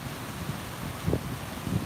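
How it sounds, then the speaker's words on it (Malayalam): Strong wind blowing during heavy rain and thunder in Cherpulassery, Palakkad, a low steady rushing roar with a couple of louder gusts near the end. "നല്ല കാറ്റാണ് നല്ല കാറ്റാണ്"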